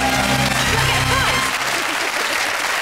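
A studio audience at a television panel show applauds loudly and continuously, with steady clapping that holds at full level for about three seconds while music-like tones fade beneath it.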